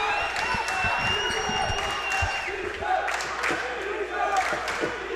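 St. Patrick fans erupt after a dunk at a varsity boys basketball game against Rich Township, loud cheering and clapping filling the gym, with scattered thumps and shouts throughout.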